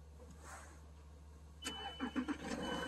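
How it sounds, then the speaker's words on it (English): A farm vehicle's engine is push-button started outdoors in the cold, a low idle hum giving way at the end to a louder burst of cranking and catching pulses. "See if Colton knows how to do a push button start"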